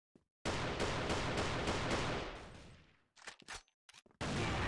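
Video game gunfire during a shooter match, a dense sustained burst of rapid shots that fades, then a few short scattered bursts and a final loud resumption, close and loud with no talk over it.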